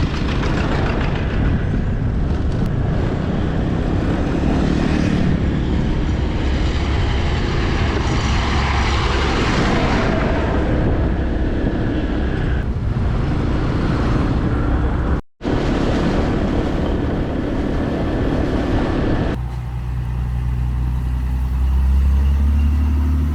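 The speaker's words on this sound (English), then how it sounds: "now that truck's gone past" A truck passes along a street in Kampong Chhnang, Cambodia, its engine rumble loud and steady throughout before dropping away near the end, with no talk over it.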